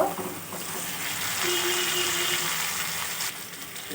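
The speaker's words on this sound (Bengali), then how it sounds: "মশলাটা ভালো করে কষিয়ে নিয়েছি পটলগুলো দিয়ে দেব" Pointed gourds drop into a pan of frying spice paste, setting off a loud, continuous sizzle close up that swells and then stays steady, with no voices.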